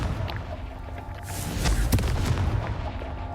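A Confringo blasting spell explodes in the video game Hogwarts Legacy, a booming burst with crackling debris rising to a peak mid-clip over a low game ambience.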